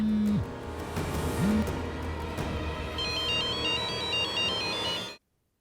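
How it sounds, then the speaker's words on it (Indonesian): A telephone ringtone plays a repeating electronic melody for about five seconds, clear and close, then cuts off abruptly into silence. "Ayo cepat angkat teleponnya."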